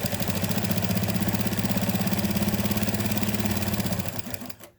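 A sewing machine stitches a denim-backed calico hotpad, its needle and feed dogs banging in a fast, steady, even rhythm close by before stopping abruptly at the end.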